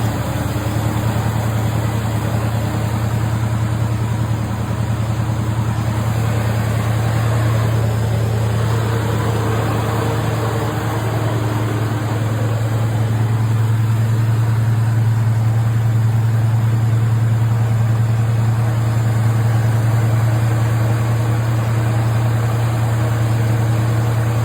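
A 1974 Chevrolet Nova SS, restored with a 1969-style look, idles steadily and close by with a deep, even rumble throughout, its running note never dropping and with no voices over it.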